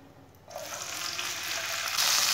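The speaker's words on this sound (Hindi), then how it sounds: "ऐसे ऐसे चम्मच चलाते हुए ब्राउन करना।" Semolina browns in hot oil with a soft, steady sizzle that swells after a quiet start, the spoon stirring it close by and growing slightly louder toward the end.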